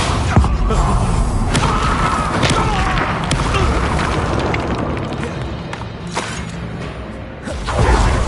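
Confringo explosion spell cast in the Hogwarts Legacy video game, a dense, loud rumbling blast with whooshing bursts and thuds layered throughout, continuous and close.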